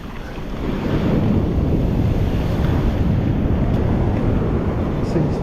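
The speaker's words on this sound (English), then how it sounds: "Lots of big waves." Big ocean waves roll and break on the beach at the Wedge, a loud continuous roar of surf with heavy wind buffeting the microphone and no voices.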